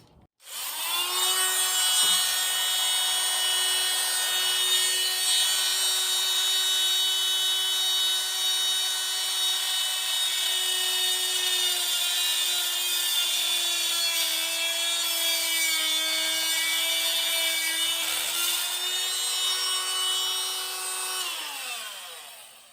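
A power saw cuts into a wooden beam and rib of a camp trailer build, a loud, steady whine that runs continuously for about twenty seconds before winding down.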